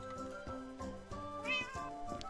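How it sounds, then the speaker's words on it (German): A cat meows in several close, drawn-out, pitch-bending calls in a row, fairly quiet with no talking, likely from a Minecraft game. "Geh mal weg, Katze."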